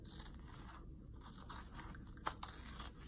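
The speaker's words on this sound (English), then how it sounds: "Kind of need some hefty scissors because you're cutting through all your zipper and this is vinyl." Quiet scissors snip and rasp through tough vinyl and a zipper on a vinyl zipper bag, with a sharp crunching cut partway through.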